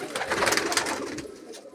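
A female pigeon cooing close by, a soft, throaty burbling call in a short run of pulses that fades out at the end, with no talking.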